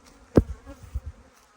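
Honeybees working on hive frames in a warm area, a low buzzing drone with one loud close pass of a bee near the start and a few softer buzzes after.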